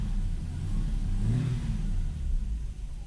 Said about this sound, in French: donc je vais te mettre des petits coups d'accélération.